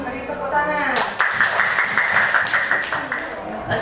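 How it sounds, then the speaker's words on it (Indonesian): A sixth-grade class claps together after a voice speaks briefly at the start, then scattered, moderately loud clapping continues steadily with some uneven bursts. "Beri tepuk tangan."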